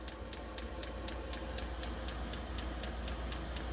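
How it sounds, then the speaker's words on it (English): A diesel heater ticks faintly and regularly at a steady fast pace over a low, constant mechanical hum. "I barely hear the ticking."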